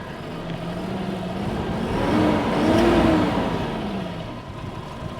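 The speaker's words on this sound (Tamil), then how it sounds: "இப்போ வண்டி வந்து நம்ம ஸ்டார்ட் பண்ணி பார்ப்போம்" The engine of a 32-foot face cowl truck chassis runs and revs: a low motor note climbs smoothly to a louder peak near the middle, then eases back down, heard close with no one talking.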